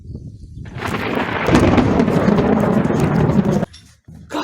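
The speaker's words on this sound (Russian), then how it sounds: "Как шандарахнула такая молния." A loud, close thunderclap from a lightning strike over woodland during a windy storm, a sudden rumbling crash that holds for about two seconds and then cuts off, with no talk over it.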